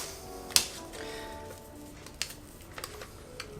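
A frozen package holding a vanilla and red fruit Christmas log cake insert is opened, giving a sharp crinkly snap followed by a few dry clicks and rustles at close range.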